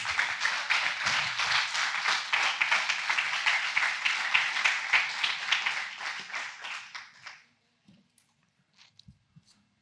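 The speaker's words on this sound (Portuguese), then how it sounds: "Dá uma salva de palmas, Jesus" Church congregation applause at a preaching service on fasting, many hands clapping close and steady for about seven seconds, then stopping abruptly into near silence with a few faint scattered sounds.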